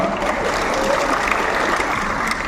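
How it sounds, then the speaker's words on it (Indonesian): A university graduation audience applauds in a steady, dense wash of clapping from many hands, continuous and fairly loud with no talk over it. "Tepuk tangan."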